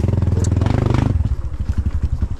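A small motorcycle engine on a tricycle putters loudly and close, its rhythmic chugging easing as it shifts down amid some rattling.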